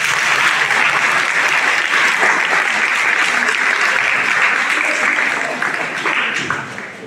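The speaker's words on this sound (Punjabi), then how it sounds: "ਸਭ ਤੋਂ ਪਹਿਲਾਂ ਤਾਂ ਬੇਟੇ ਆਪਣੇ ਲਈ ਤੁਸੀਂ ਤਾੜੀਆਂ ਮਾਰੋ" Students at a senior secondary school counselling session applaud together, a dense sustained round of clapping that stays loud and even before tapering slightly near the end.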